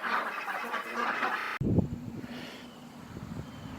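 Noisy farm ducks quack and chatter in a busy cluster, first mixed with wind noise, then after an abrupt cut a closer loud burst of calls that eases into ongoing quacking.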